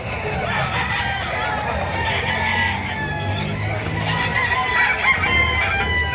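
Roosters crow and hens cluck at a fowl market, with several birds calling close by over one another against a busy background.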